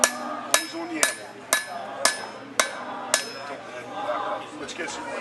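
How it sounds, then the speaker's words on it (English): A hammer strikes hot metal on an anvil while forging a taper, six sharp ringing blows at a steady pace about half a second apart, followed by quieter clinks and faint voices. "Hammer a little bit more taper in there."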